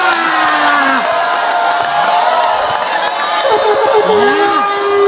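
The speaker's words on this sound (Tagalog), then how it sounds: "Mas lalo tuloy nag-wild yung crowd." A packed crowd cheers wildly at a basketball game on a crowded court, a loud, unbroken roar of shouts and whoops that holds steady from start to finish.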